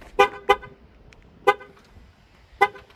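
Four short, bright honks from a 2016 Dodge Journey Crossroad as its key fob remote start is used, sounding singly with uneven gaps, fairly close and clear against a quiet background.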